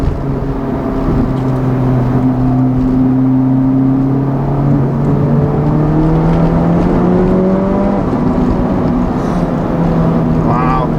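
A 2019 Honda Civic Type R with a Borla exhaust revs hard and climbs high into the upper RPMs, a loud, close, sustained engine drone that rises and then falls back, heard from inside the car.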